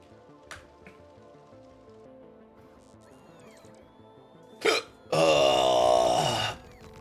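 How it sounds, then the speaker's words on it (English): Short hiccups from a person over a quiet, tonal game soundtrack, with a faint early gulp and then a sharper, louder hiccup, followed by a longer loud burst of noise. "If you hear weird sounds in the background, that's me having hiccups."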